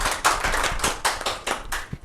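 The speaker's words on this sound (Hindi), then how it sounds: "एक बार जोरदार से तालियां हो जाएंगी" Audience clapping at a community meet-the-icon event honouring a former Jana Sangh district president, heard as a loud, close burst of hand claps with rhythmic surges that fade near the end.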